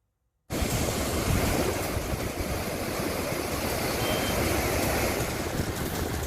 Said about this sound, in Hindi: बाजार तक ये मानो एक सैलाब आ गया है